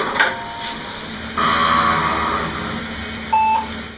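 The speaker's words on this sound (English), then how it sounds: "That's the sound of an IBM PC booting into DOS." A low electronic hum and whirring of an old IBM PC starting up and booting into DOS, ending with a single short, sharp beep.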